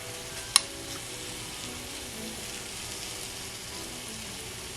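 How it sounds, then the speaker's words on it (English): Apples frying on a Dash mini griddle, giving a faint, steady sizzle throughout with one brief sharp click near the start. "But can you see how the apples are cooking down?"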